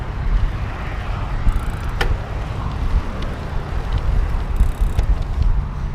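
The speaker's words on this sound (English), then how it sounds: "This is just me pedaling." Quiet pedaling of a Cube Touring Hybrid Pro 500 e-bike with the motor switched off and a chain cover over the sprocket, a steady low whir with faint mechanical ticks, no voices.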